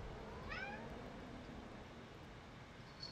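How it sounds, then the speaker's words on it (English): A cat gives a short rising meow at a moderate distance, faint against quiet room tone, with a brief second cry just starting at the very end; no one speaks. "I hear a kitty."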